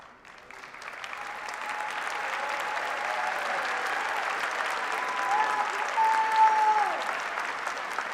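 A graduation audience at the UM-Dearborn spring commencement breaks into sustained applause, a dense wash of clapping from many hands that builds quickly and holds steady, with a cheer or whistle near the end.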